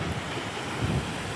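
Sea waves and wind at a seashore, a broad roaring wash of surf with heavy wind buffeting against the microphone, steady over a brief moment with no voices.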